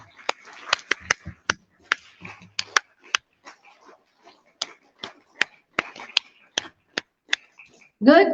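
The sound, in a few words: group clapping a five-clap rhythm at a school event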